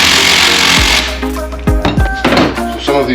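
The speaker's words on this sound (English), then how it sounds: "some of these bolts are really tight. So I'm just going to use the air gun to break them loose." An air impact gun breaks loose tight bolts on a Honda B18C1 GSR transmission casing, with a loud broadband burst of hammering for nearly a second, then quieter clinks and rattles of tools and parts.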